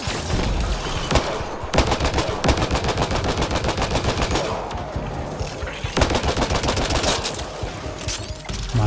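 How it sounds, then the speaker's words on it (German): Gun turret firing in the video game Mass Effect Andromeda at a Kett base on Eos: loud, sustained rapid automatic fire with dense rhythmic bursts, close and steady, with no talk. "Hartnäckig, dieses Geschütz."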